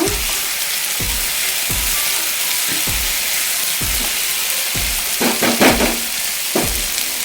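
Fenugreek leaves (methi) fry in a hot pan with a steady, loud sizzle, broken by regular low thuds roughly once a second as the leaves are stirred, plus a few sharper scrapes near the end.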